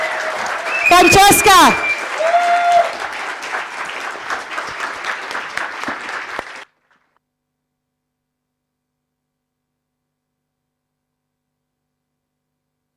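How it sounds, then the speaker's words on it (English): An assembly audience bursts into loud applause and cheering for a co-president at a Sunday general assembly. A few voices call out briefly near the start, and the clapping then cuts off abruptly about halfway through, leaving silence. "Can you please give her a massive big round of applause, ladies and gentlemen?"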